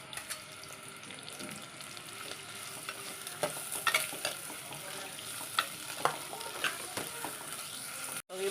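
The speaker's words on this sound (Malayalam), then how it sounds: "ചെറുതായിട്ടൊന്ന് വഴറ്റിയാൽ മതി." Ingredients for a mango curry are lightly sautéed in a pan, giving a soft continuous sizzle broken by scattered scrapes and taps of a spoon stirring, moderately close and fairly quiet.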